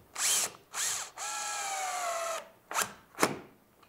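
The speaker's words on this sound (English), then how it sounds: "I'm going to put in a longer screw on that third hole right here." A power drill drives a long screw through a door hinge into the jamb, two short whirring bursts followed by a longer sustained run that slows in pitch, then a couple of brief clicks.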